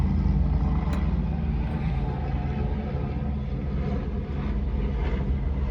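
A helicopter flies overhead, a loud, steady rumbling drone that fills the whole stretch without pause and has no voices.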